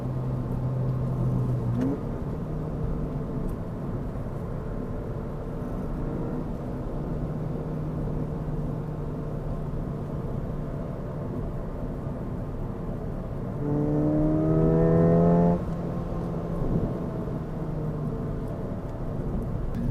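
A Ford Fiesta ST engine drones steadily from inside the cabin, then revs up and drops back through manual gear shifts, a rising whine near the end.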